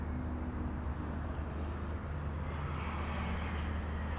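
An Embraer airliner on landing at Toronto Pearson Airport gives off a steady, low, distant engine roar that holds even and fairly faint without any talk.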